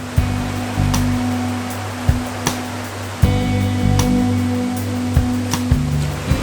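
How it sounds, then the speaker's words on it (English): A large waterfall swollen after heavy rain roars as a constant, dense rush of water, loud and close, broken by a few sharp knocks or handling bumps, with no voices. "We've got quite a big waterfall just here, and we've had a lot of rain recently."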